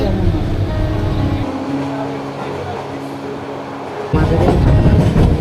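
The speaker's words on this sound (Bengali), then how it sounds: "ট্রেন ছাইড়ে দিছে" A train pulls out of a station, heard from on board as a continuous close rumble with faint rail clatter that swells louder near the end, while people talk over it.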